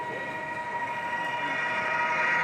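Model train rolling past on a Free-mo layout module at a club setup, a steady sustained rumble with a faint tonal whine, close and continuous without talk.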